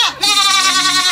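A goat on a small ruminant farm in Mahabubnagar, Telangana, lets out a single loud, close, wavering bleat that lasts about a second.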